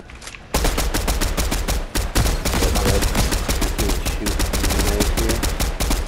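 Rapid gunfire in the video game Fortnite during a trios match, loud bursts of repeated shots in quick rhythm running nearly the whole time after a brief quiet start, with a short pause midway.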